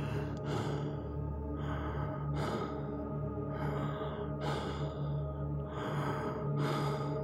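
A voice imitates the slow, heavy breathing of a masked horror-film killer, with repeated rasping breaths in a steady rhythm over a low, sustained background hum.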